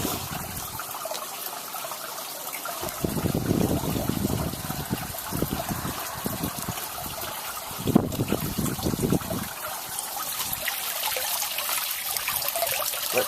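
Water trickling and washing over plant root material and a rock base in an aquaponics setup, a steady close splashing dribble that swells in bursts and continues throughout.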